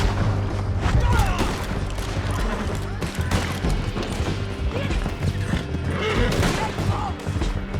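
Horses gallop with thudding hooves and whinny amid a loud battle in Red Dead Redemption 2, with gunfire and booms mixed into the dense noise.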